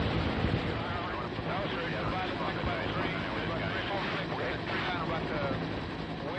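Cobra attack helicopter rotors in flight over Vietnam, a steady loud churning roar with wind buffeting that fills the whole clip, heard from on board.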